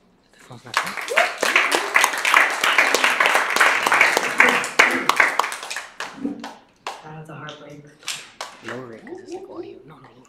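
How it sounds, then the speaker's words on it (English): Audience applause for a poet at a poetry reading event, a dense wash of clapping for about five seconds before fading, followed by a few scattered claps. "Please keep clapping for Angela Brown."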